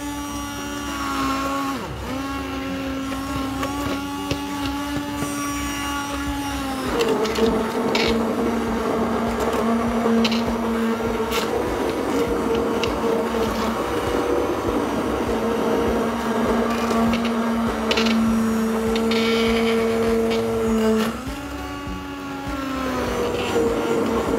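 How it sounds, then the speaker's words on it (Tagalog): Continuous buzzing whine of a hand mixer blending thick red lentil soup, the motor tone dropping and straining for a long stretch before easing back up. "Ngayon ay i-blend na natin gamit ko ang hand mixer."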